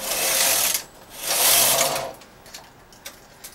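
A knitting machine carriage slides across the needle bed in two swift passes, each a loud whooshing, clattering sweep, followed by faint clicks and mechanical ticks, with no talking.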